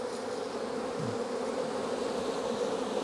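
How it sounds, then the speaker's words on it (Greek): Honeybees buzzing at a beehive on Lesbos, a dense, continuous close-up drone of many wings, steady and fairly loud throughout with no talk. "Πάντα καπνίζουμε τις μέλισσες, γιατί ο καπνός ως ένα βαθμό ηρεμεί και δεν τσιμπάνε τόσο."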